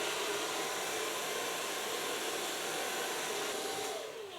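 A hair dryer blows continuously on thick hair during a blow-dry, a steady loud whooshing roar that holds throughout and eases slightly at the very end.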